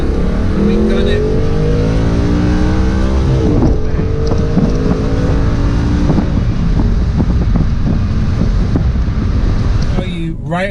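An Audi R8 Spyder convertible accelerates hard with its engine revving up through rising pitch, loud and close, buffeted by wind noise from the open top, with someone talking over it.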